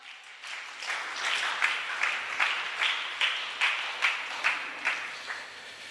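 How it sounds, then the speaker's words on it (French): A church congregation claps in a steady rhythm, with sharp regular beats close together over the whole stretch and a brief hum of voices underneath. "On acclame, on acclame."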